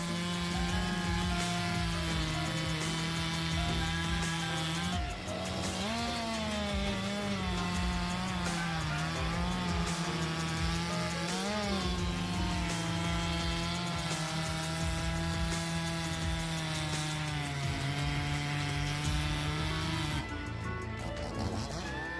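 A Stihl MS361 chainsaw with a 59cc engine cuts through large logs, its engine note whining and shifting in pitch as it bogs and revs, loud and continuous for the whole stretch.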